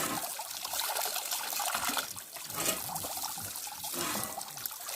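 Water runs steadily from a hose or tap while a Rottweiler is bathed, a continuous close splashing hiss with small surges throughout and no talk.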